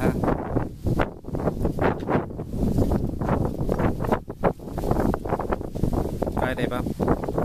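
Strong outdoor wind buffets the microphone in loud, continuous rumbling gusts, with a voice talking through much of it.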